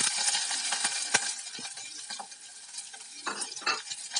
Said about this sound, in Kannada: ಸ್ವಲ್ಪ ಬಿಸಿ ಆಗ್ತಿದ್ದಂಗೆ ಸಾಸಿವೆ ಮತ್ತು ಜೀರಿಗೆ ಹಾಕ್ಕೊಳ್ತಾ ಇದ್ದೀನಿ.